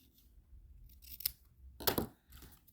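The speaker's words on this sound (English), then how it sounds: "just line it up, get a guide, and then just take your scissors" Quiet, close snipping of scissors cutting ribbon, a couple of crisp cuts with soft rustling in between.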